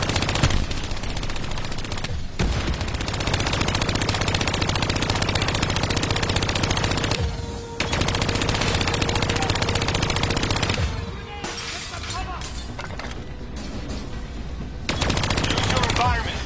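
Rapid automatic gunfire from a video game firefight, loud sustained bursts rattling almost continuously with a few brief pauses, shooting at flying VAP drones amid busy game effects.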